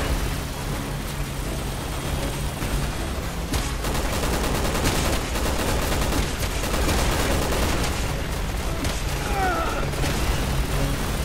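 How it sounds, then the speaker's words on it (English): Heavy gunfire crackles from all around in Resident Evil 6, dense overlapping bursts and volleys running continuously at close and middle distance over a low rumbling background. "Someone shooting at me from all sides."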